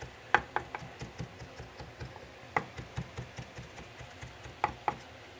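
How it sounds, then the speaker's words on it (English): A knife finely mincing ginger on a cutting board, giving quiet rapid rhythmic taps with a few sharper clacks spread through, close and without speech. "So I like to get this nice and minced up, finely minced on this."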